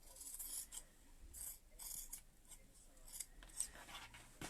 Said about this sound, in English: with the corners, we're going to cut the corners off like that. I'm going to trim this.